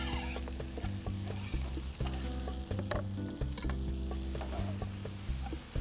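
Chopped tomatoes fry in a pan and sizzle steadily and close, with a few stirring scrapes and a low steady hum beneath, no talk.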